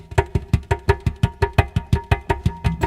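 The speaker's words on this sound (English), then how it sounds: "On this song, I'm going to use a really thick echo effect" Acoustic guitar drenched in a thick echo effect, plucked in a steady, evenly spaced rhythm of about five notes per second, each attack followed by a repeating decay, loud and close with no voices.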